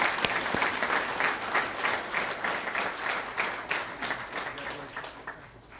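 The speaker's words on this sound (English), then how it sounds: "Another round of applause for Ezekiel." Audience applause at a graduation ceremony: a large crowd claps steadily and fairly loudly, then gradually fades near the end.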